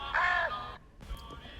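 Crows caw in a harsh, drawn-out call followed by a fainter second caw after a short pause, heard alone with no talk.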